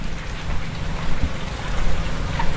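Steady soft patter of light rain falls continuously, an even wash of drops with a low rumbling undertone.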